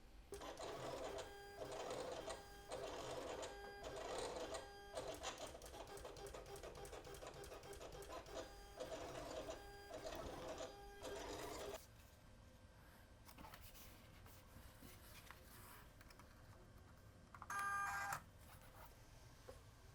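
An electronic cutting machine cuts cardstock pieces for an envelope organizer album, a quiet mechanical whirr pulsing in rhythmic bursts of motor movement, then a softer pause with a brief final whirr near the end.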